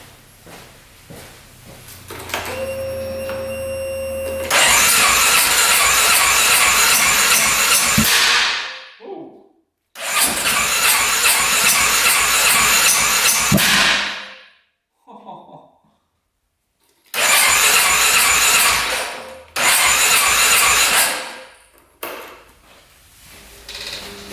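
ATV engine that has sat unused being cranked in several loud, long bursts with sharp pops from backfiring, separated by brief pauses.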